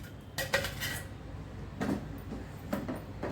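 Tomato and ripe red chilli pickle stirred in a metal pan in a home kitchen, a spoon scraping and clinking against the pan in a few separate bursts over quiet background noise.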